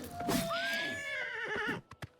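A horse in The Elder Scrolls IV: Oblivion Remastered whinnies loudly, a long rising then wavering neigh lasting nearly two seconds, followed by a couple of brief soft thuds.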